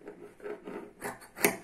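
Scissors cutting a curved edge in fabric for a modern Moroccan djellaba, giving close, soft rasping snips in a quick irregular series with a sharper final cut, no voices.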